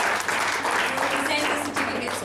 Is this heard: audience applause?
yes